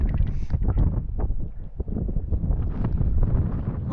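Steady gusting wind buffets the microphone on an open frozen lake on a warm, breezy day of ice fishing, a continuous broadband roar with rising and falling gusts throughout.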